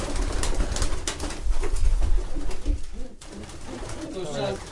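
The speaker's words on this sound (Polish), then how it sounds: "Widzę, że ma pan dobrą wprawę w łapaniu gołębi w locie." A racing pigeon coos in a loft while being caught by hand, soft low throaty calls mixed with wing flutters and handling noise, close and fairly loud, fading near the end.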